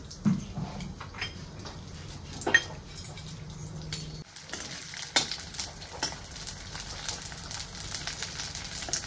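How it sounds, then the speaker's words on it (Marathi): Edible gum (dink) frying in ghee in a kadhai on a gas stove, a soft continuous sizzle with scattered crackles and occasional stirring clinks, close and moderately quiet. "ते डिंक अगोदर तुपावर भाजून तळून घेते"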